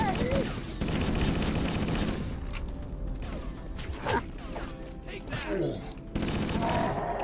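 Gunfire and clanking weapon mechanisms in Halo: Combat Evolved, with bursts of shots and metallic rattles amid busy game noise, fairly close.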